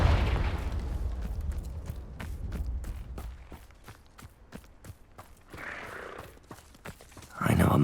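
Confringo spell explosions in Hogwarts Legacy, a string of sharp percussive blasts and impacts spaced through the clip, moderately loud, ending in a bigger burst near the end.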